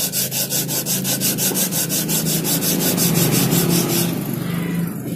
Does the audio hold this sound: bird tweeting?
no